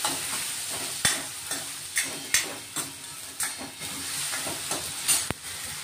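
Green peas go into a sizzling dal tadka tempering with chopped tomato, a close hiss and crackle marked by repeated sharp spoon clanks against the pan, with no one talking.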